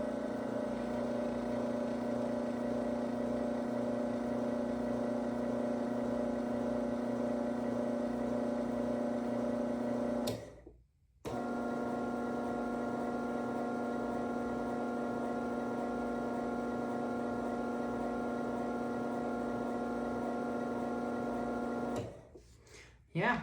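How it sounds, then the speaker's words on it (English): Craftsman Silent Drive 139.53664SRT2 garage door opener, nearly 28 years old, gives a steady droning motor hum that runs, stops briefly partway through, runs again, then cuts off near the end. "So that is the Craftsman Silent Drive."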